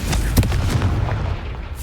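Confringo fire spell blasts in Hogwarts Legacy, a rapid series of loud booming explosions with sharp cracks, dense and close throughout.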